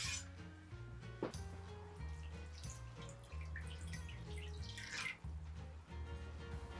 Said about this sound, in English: Add the kombu to a pan along with 500ml of water